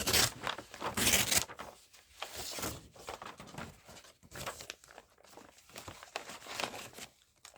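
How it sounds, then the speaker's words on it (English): Paper being torn by hand off a large Papua New Guinea map during a crafting session, a series of close crinkling rips and rustles with brief pauses, no talking. "Maybe we'll just tear that bit off."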